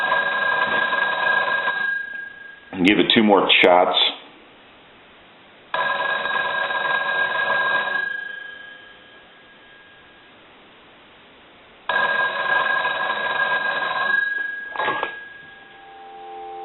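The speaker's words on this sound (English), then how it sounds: "we're going to go ahead and ring the telephone" An old Stromberg Carlson hotel telephone's mechanical bell rings in three separate bursts with pauses between, loud and close, with a brief spoken remark in the middle.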